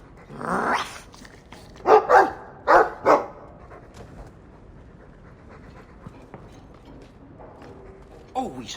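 A dog in the video game Dragon Age 2 lets out a growl and then a quick series of four loud, close barks, with a brief further yelp near the end.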